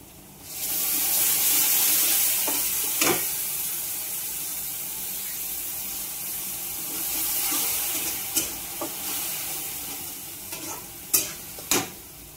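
Tomato puree hits frying onions in a pan with a rush of sizzling, then the mixture is stirred, with a few sharp spoon knocks against the pan near the end, close and without voices.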